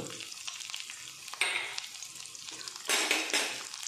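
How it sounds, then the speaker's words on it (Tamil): Dried red chilli, bay leaf and fennel seeds fry in oil in a pan, a continuous close sizzle that surges in two louder bursts, likely as the pan is stirred. "இதை போட்டு கொஞ்சம் நல்லா வறுத்துக்கலாம். பொன்னிறமாக வறுக்கணும்."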